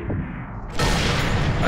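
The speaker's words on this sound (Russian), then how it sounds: "Один выстрел, даже два выстрела можно сделать и без прикрытия" A loud gunshot in Sniper Elite 3 bursts in partway through, followed by a sustained roar of echoing noise after a quieter, rumbling start.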